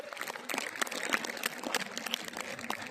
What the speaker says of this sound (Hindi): एक बार जोरदार तालियां हो जाए प्रभजोत कौर के लिए।